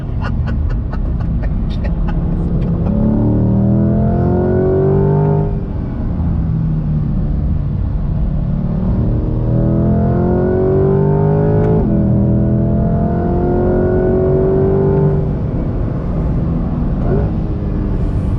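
A 2020 Chevrolet C8 Corvette Z51 engine pulling hard on throttle from inside the cabin, loud rising revs climbing through several gears with brief drops at each shift, while a voice talks over it.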